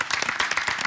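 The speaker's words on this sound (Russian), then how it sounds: "Пусть эти бурные аплодисменты" Studio audience on a TV cooking show bursts into dense, lively applause, a thick wash of many hands clapping close and loud over a brief moment.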